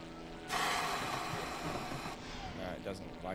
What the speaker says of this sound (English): That's a very cool plane though. Massive thing.